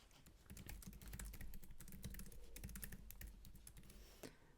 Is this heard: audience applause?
no